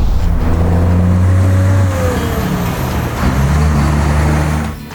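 A 1981 Mack Cruise-Liner truck with a 350 engine and 10-speed Maxitorque transmission idles and runs loudly up close, a deep steady rumble that eases briefly before settling.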